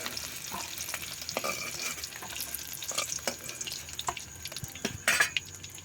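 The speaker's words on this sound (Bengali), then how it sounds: "ওই তেলের মধ্যেই আমরা আলুগুলোকেও একটু কষিয়ে নেব" Potatoes frying in oil in a pan for an egg and potato curry, a continuous soft sizzle with scattered crackles and a few louder scraping stirs, close and alone without talk.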